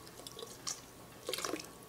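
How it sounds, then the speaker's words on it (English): Hot water poured out of a teapot while preparing chai tea, heard as faint, close drips and small splashes in two brief bursts against a quiet room. "I'm just going to spill out all the hot water that's in here"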